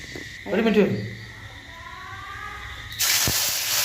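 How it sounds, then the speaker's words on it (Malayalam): Mustard seeds dropped into hot ghee while cooking an onion curry. A loud, steady sizzling hiss bursts in near the end with a sharp pop, following a stretch of speech. "ചൂടായി കഴിഞ്ഞാൽ കുറച്ച് കടുക് ഇട്ട് കൊടുക്കാം."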